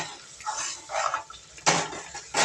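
A utensil scrapes and clinks against a pan in a few short bursts while mixing an aubergine bharit, close by, with no talking.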